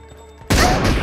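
Gunfire in the PUBG Mobile shooter game during an M24 sniper rifle-only match, a single loud, sudden blast bursting out after a quiet lead-in and ringing on to the end.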